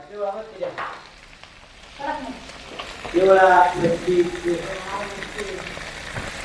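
Fish sizzles and crackles on a hot tava griddle in a busy hotel kitchen at Hotel Kaveri, a loud continuous frying hiss with kitchen voices talking over it throughout.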